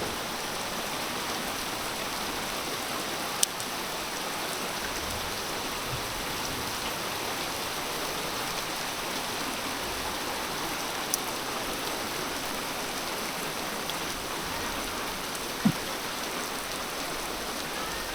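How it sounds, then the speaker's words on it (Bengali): Heavy monsoon rain pouring down steadily over a village, a dense, even hiss of downpour with a few faint isolated knocks, no voices. "দেখতেই পাচ্ছেন যে আমাদের এলাকায় ঝুম বৃষ্টি হচ্ছে"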